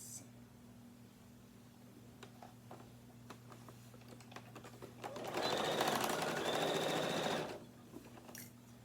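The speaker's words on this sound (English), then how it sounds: "I'm going to sew across, backspacing at the beginning and at the end" A sewing machine stitches across a tote bag seam, a quiet tick or two before a loud, steady mechanical whir runs for about two seconds and then stops.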